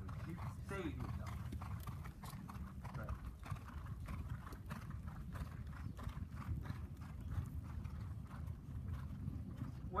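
A horse cantering during a riding lesson, its hoofbeats thudding in a steady rhythm on the arena surface while a person talks over them.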